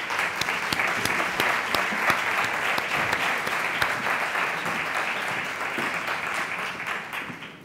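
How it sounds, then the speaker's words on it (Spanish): At a round-table event on multiple sclerosis, an audience applauds the panel of doctors with dense, lively clapping that holds steady before tapering slightly at the end. "Un aplauso para ellos."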